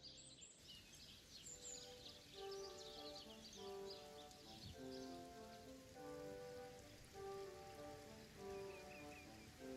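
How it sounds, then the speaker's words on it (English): Rain in a video game falls in a continuous steady patter, with faint bird chirps and tonal game music underneath. "Rain, rain, so much rain."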